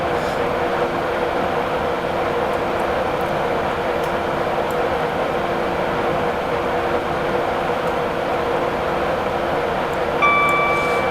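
A Class 91 electric locomotive running in the Train Simulator 2017 game: a steady, loud rolling rumble with continuous wheel-on-rail noise and faint tonal whine rising near the end, no voices.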